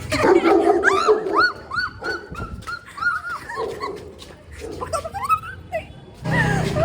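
Dogs on a Delhi street bark and yelp in repeated bursts, close and loud, with whimpering yips between them and people talking in the background.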